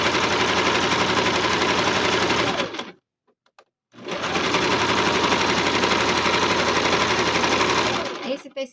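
A sewing machine quilts suede fabric for a child's backpack in two long, fast, loud stitching runs separated by a short silent pause, the rapid mechanical chatter steady throughout.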